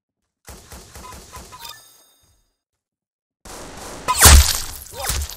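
Gunfire in the Roblox Arsenal video game: a short burst of clipped shots, a silent gap, then a louder flurry with a heavy impact and a whooshing hit near the end.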